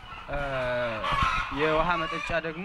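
Chickens cluck and call in a poultry house, the bird sounds loud and close, rising and falling in bursts while a person talks over them.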